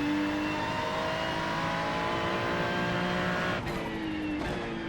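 Race car engine drones steadily at speed on a slick, wet track in an IMSA racing simulator game, with a damaged car, shifting pitch and a couple of brief bursts near the end, no talking.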